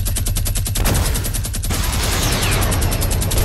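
A gold minigun fires in a shooter video game, a dense continuous rapid-fire rattle that stays loud and close throughout with no talk over it.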